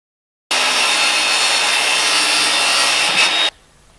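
A table saw rips through wood for cornhole boards with a steady, loud, bright whine for about three seconds, then cuts off abruptly, leaving a faint hum.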